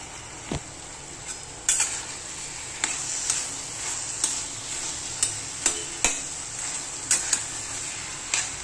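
A spatula stirs food frying in oil in a steel kadhai, giving a soft continuous sizzle broken by sharp metallic scrapes and taps at an uneven rhythm. No one speaks.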